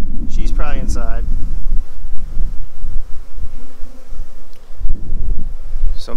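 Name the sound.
honey bee swarm buzzing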